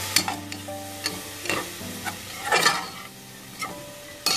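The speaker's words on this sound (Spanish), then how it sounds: "Y mezclamos." Spoon stirring vegetables and sauce in a frying pan, with seasoning mix and a splash of water for a tangerine sauce dish with pork loin and mushrooms; a steady sizzle runs under repeated scraping strokes, close and moderately loud, no talking.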